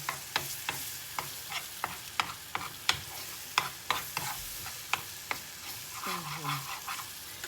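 Food sizzling in a pan while a utensil stirs and scrapes with regular clacks, close by, with no speech, during borscht preparation.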